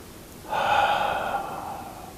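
One slow, deep breath during a seated extended-exhale relaxation exercise: a soft, airy rush begins after a short quiet pause and then tapers off gradually, close and steady with no speech.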